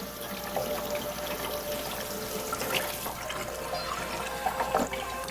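Running water splashes and gurgles steadily as hands are rinsed, a soft, continuous trickle with a few brighter splashes near the end.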